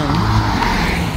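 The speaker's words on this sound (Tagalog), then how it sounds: "Bilis ng mga kotse." Fast cars rush past on a road in Canada, a steady close broadband roar of tyres and engines filling the brief moment without a break.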